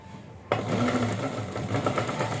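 A sewing machine stitching a sofa cover starts up abruptly and runs steadily with a fast, even mechanical whir and rapid needle patter, close and continuous.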